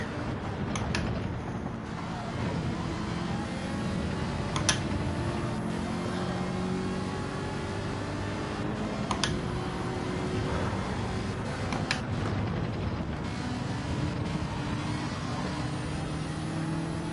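A Ferrari GT3 race car's engine drones steadily at high revs in Gran Turismo 7, with rising and falling pitch through gear changes and a few sharp clicks, loud and continuous without talk.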